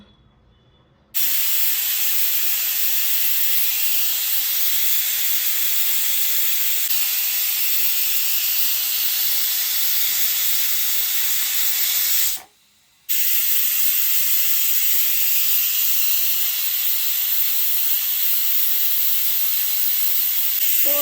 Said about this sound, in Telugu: విజిల్స్ వచ్చాయి ఫోర్ విజిల్స్ వరకు పెట్టుకున్నాను